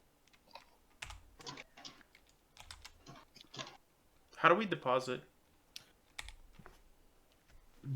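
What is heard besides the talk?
typing on a computer keyboard in chat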